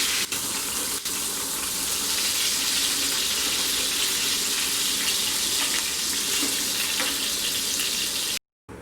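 Fish fries in hot oil in a pan on a gas stove, giving a steady close hiss and sizzle with no talking, then a brief cutout near the end.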